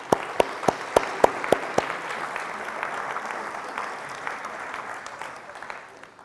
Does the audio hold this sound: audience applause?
yes